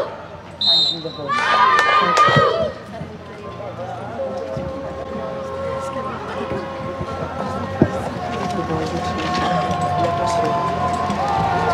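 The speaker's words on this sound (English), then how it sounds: "Can we have a big round of applause?" Crowd noise and cheering at an outdoor horse-riding display, with hooves clip-clopping early on and an announcer talking over a steady background roar.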